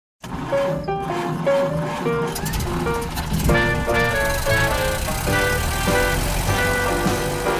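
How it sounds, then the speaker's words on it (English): Sound effect of a clunky, very old vintage car, loud and continuous, with a rattling engine and shifting tonal whines that change pitch as it runs. "As we can hear, this car sounds quite clunky."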